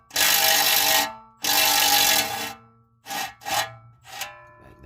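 A wrench fitted with an 18mm socket works loose a lower control arm bolt on a 2012 Nissan Maxima. It gives two long, close ratcheting rasps followed by three shorter bursts, with no talking.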